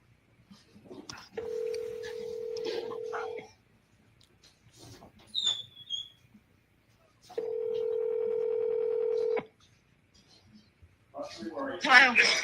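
A telephone call being placed: brief dialing clicks, then two long, steady ringback tones separated by a pause, with faint handling noises between and a burst of sound at the end.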